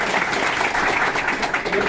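An audience at a morning motivational speech event gives a brief burst of vigorous clapping, thick and continuous throughout with no pauses.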